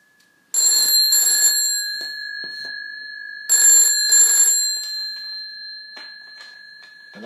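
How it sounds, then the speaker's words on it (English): A WW2 field telephone bell, wired as a doorbell, rings in a UK-cadence double burst, pauses, then rings another double burst, with a steady tone humming underneath and faint clicks after. "that's a UK, what they call a UK cadence, or a UK ring."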